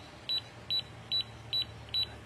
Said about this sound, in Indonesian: Nah, ini nanti ada batas cut off. Nah, alarm berbunyi guys.